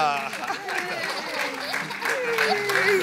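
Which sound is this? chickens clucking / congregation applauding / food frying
congregation applauding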